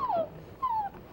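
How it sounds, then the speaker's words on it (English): A small dog lets out two short, high whimpering yelps, close and fairly quiet, separated by a brief pause. "That's a good doggy."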